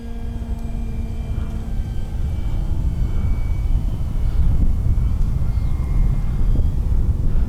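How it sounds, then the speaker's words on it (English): A small FMS Pitts 1400mm RC aerobatic biplane drones overhead, its engine hum swelling and fading as it passes, with light wind buffeting the microphone. "Basically, it's an aerobatic plane"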